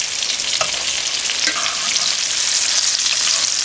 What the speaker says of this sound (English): So now, I'm going to take this and then flip them.